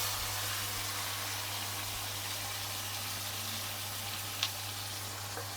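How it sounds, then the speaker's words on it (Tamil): Onion, tomato and curry leaves sauté in hot oil for a sambar, giving a steady, close, hissing sizzle that holds evenly throughout, with one brief stir or clink near the end. "இப்போ இதை போட்டு நல்லா வதக்கி விட்டுடலாம்."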